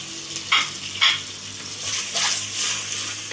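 Small diced chicken pieces and vegetables sizzle in a pan, stirred in a few irregular bursts of scraping and hissing, close and fairly loud.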